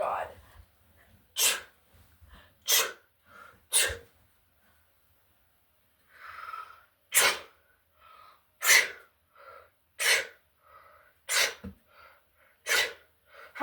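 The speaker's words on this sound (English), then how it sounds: "It's wet because of the sneeze." A person sneezes repeatedly, around eight sharp, loud bursts spaced a second or so apart, with gasping intakes and breaths between them.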